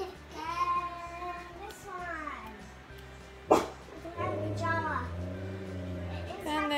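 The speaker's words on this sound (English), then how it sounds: "you can hear Gizmo barking" A small dog yips and barks in short bursts amid a child's chatter and squeaky, whistly toy sounds, with one sharp loud thump partway through.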